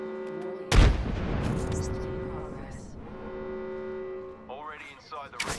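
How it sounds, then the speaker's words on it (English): In the Apex Legends battle royale game, a frag grenade goes off as a single sharp, loud boom early on and then rumbles away beneath squad voice chat and game sounds. "Throwing frag."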